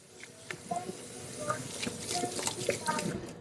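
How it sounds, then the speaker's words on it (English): Hot tap water runs into a sink while hands are washed, a steady close patter with splashes and faint clinks, as someone speaks over it. "I'm just going to wash my hands."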